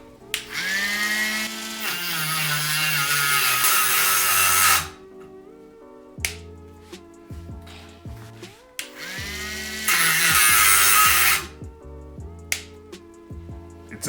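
A Dremel SC 544 wood cutting disc biting into hardwood: two loud, high whining cuts of a few seconds each, separated by a quiet pause with small clicks and knocks.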